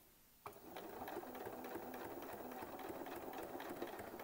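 A sewing machine starts up and runs steadily while test-stitching a quilt sandwich with a free-motion foot. It gives a continuous close, fast rhythmic whirring and clatter, alone with no voices.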